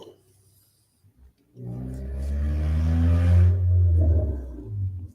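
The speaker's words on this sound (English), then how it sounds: "That's an unusually loud car." A very loud car roars past during a storm with large hail and a tornado nearby, its engine rising from near silence into a heavy, sustained rumble, then fading slightly before swelling again.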